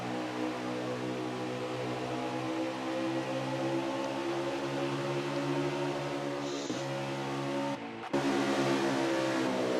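Race cars in a racing video game at the Dover track hold a steady, droning engine whine for about ten seconds, with small pitch shifts and a brief dropout near the end.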